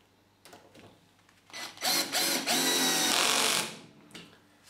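Cordless drill driving a screw, a short whirring run that rises, holds for a couple of seconds and stops, set against quiet room hum.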